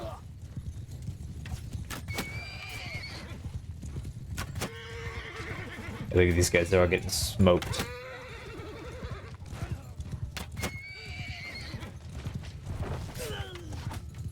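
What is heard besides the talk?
horses of horse archers in battle, from a video game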